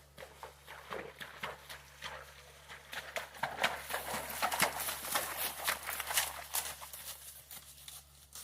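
A natural racking horse wades through a deep creek, its hooves splashing and clopping in an irregular walking rhythm at close range, with water sloshing and no talk.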